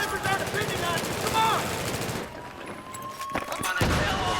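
Rapid automatic fire from a PP-2000 submachine gun in the shooter game Battlefield 3, heard as a continuous rattling stream over game noise with someone talking over it, then a quieter stretch with a couple of isolated shots.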